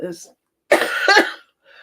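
A pair of harsh coughs, close and loud, separated by a short silence, followed by a faint trailing voice.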